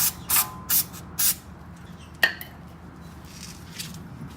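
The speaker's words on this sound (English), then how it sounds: "Give it one more blast of brake cleaner." Brake cleaner hisses from an aerosol can onto Lexus LX 570 brakes in four short, sharp blasts close up, followed by a single quicker spurt and a low mechanical background hum.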